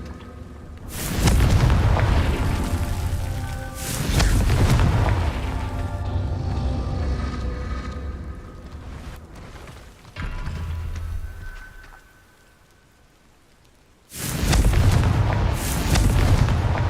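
Confringo spell explosions in Hogwarts Legacy, several heavy booming blasts with crackling debris separated by quieter mechanical rumble and pauses, loud and close.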